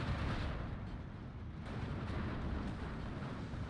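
A Pak 40 anti-tank gun firing in a WW2 real-time strategy game, a dense continuous rumble of booming blasts at steady loudness with no talk over it.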